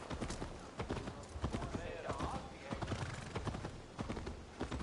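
Horse hooves clip-clopping at a steady walking rhythm in Assassin's Creed Valhalla, close and clear, with someone speaking over them.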